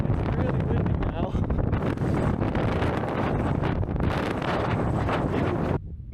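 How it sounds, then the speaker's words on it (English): Strong wind batters the microphone on an exposed mountain knob in New Zealand, a loud, continuous roaring buffet that never lets up for about six seconds before dropping off abruptly at the end. "It's really windy now."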